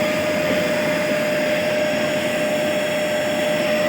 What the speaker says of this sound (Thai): นี่เครื่องดูดฝุ่นนะ